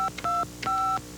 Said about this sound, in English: Just dial this toll-free number